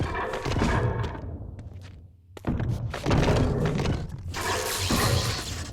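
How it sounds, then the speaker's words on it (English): In the Legacy of Kain: Defiance video game, an attack move lands with a dense burst of crunching, shattering impact sounds and heavy thuds that drop away briefly, then return loud and layered, with no talking. "the sound of that move, it should stab it into him and explode him"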